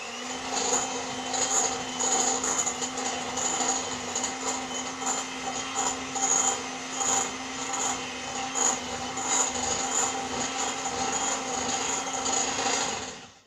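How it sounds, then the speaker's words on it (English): An electric mixer beats margarine and sugar in a steady, continuous whirring drone that holds close and loud with slight pulsing, with no talk. "We're going to beat mix of blueband and sugar till it become a creamy like. You can use whisk or electrical mixer."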